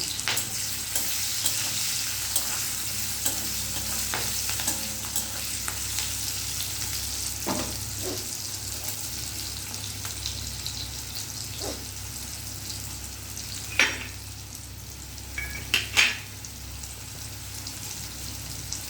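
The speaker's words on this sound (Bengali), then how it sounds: "হলুদ গুঁড়ো, এরপর অল্প নাড়াচাড়া করে দিয়ে দেবো টমেটো কুচি" Turmeric and chopped tomato stirred in a frying pan, a steady close sizzle throughout with occasional scraping knocks of the spoon, louder near the end.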